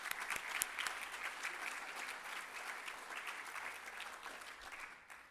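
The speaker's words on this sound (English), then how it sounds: "Please join me in giving the members, annual sponsors, and the committee a round of applause." Members of a mining club's young professionals group applaud together, a steady, moderately dense clapping that holds level before tapering off toward the end, with no voices heard.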